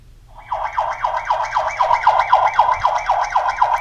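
A Tuya Wi-Fi security camera's electronic siren starts abruptly and warbles rapidly up and down in a fast repeating sweep, loud and close, with no talking.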